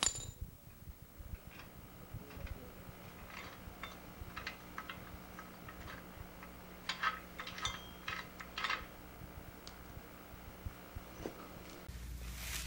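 Faint metallic clinks and ticks sound as a wrench fits onto the nut of a gas lawn edger's blade bolt, scattered irregularly over a low steady hum, with no talking.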